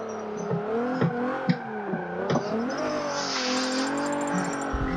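A car in the racing game Forza 7 power slides with a loud, sustained engine roar that rises and falls through gear changes, punctuated by brief clunks and a hiss of tire noise, with no talking.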